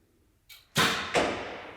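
A faint bow release followed by two sharp arrow whooshes, each striking with a crisp thud and quickly fading, heard alone.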